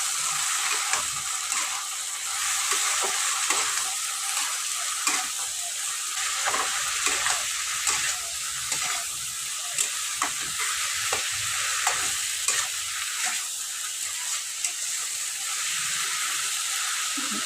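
A spice paste of green chilli, ginger, onion and garlic is stir-fried with Malabar spinach seeds for a dry fish dish, giving a continuous close sizzle with repeated scraping stirs and no talking.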